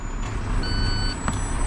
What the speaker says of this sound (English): Hold it back right here till it beeps.